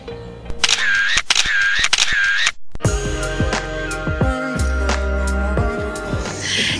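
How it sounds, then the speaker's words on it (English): Pop-up selfie camera on a Huawei Y9 Prime 2019 phone rising and firing, heard as a short whirring motor sweep repeated a few times, followed by a clicking shutter and loud background music. "we are gonna take a selfie with the Huawei Y9 Prime 2019's pop-up camera"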